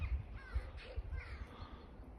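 A crow caws outdoors in the snow, producing a few hoarse calls at moderate distance over steady low background rumble.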